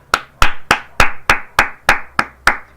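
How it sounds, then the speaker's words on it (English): One person claps alone, nine sharp, evenly spaced hand claps about a third of a second apart, close and loud, with no talking. "Yes, I'm clapping."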